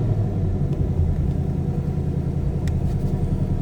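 A 2024 Ford Mustang GT coupe's engine, push-button started, idles with a steady deep low rumble, close and continuous, with no talk over it.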